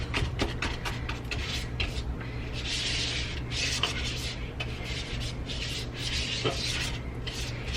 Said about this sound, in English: So I'm just going to brush all those out, and then I can sweep them away.